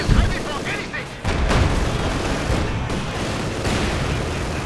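Incendiary artillery barrage in a World War II real-time strategy game, a dense continuous rumble of explosions and gunfire with a brief dip early on, under a commentator talking throughout.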